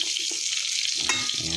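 Garlic and onion sauté in chicken oil tinted with annatto, giving a bright, even sizzle close by, with a brief stirring scrape partway through.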